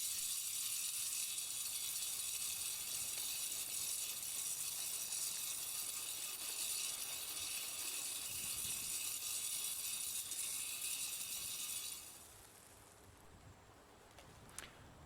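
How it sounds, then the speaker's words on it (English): An automatic pigeon bait feeder whirs and ratchets steadily for several seconds, then cuts off, leaving quiet background with a small click near the end. "Once the feeder triggers"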